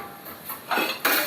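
A metal tava griddle pan clanks as someone handles it on a gas stove, with a few close, sharp clinks and scrapes that grow louder toward the end.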